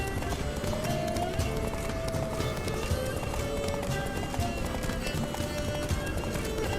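Horse galloping in The Witcher 3, steady fast clip-clop hoofbeats running continuously and close, with a faint whinny and game ambience beneath.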